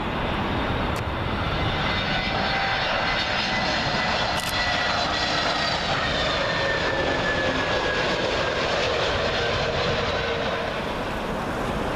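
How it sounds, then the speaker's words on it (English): A TAP Airbus A320neo arriving from Lisbon passes close on approach at Heathrow, its jet engines giving a loud, continuous roar and whine that holds steady throughout with no break. "TAP A320neo arriving from Lisbon. He really drifted sideways arriving then."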